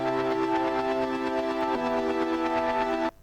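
A two-layer synth holds a smooth saw-type chord that shifts to a new voicing midway, with a fast-moving rhythmic pulsing texture running over it, then cuts off abruptly, heard alone.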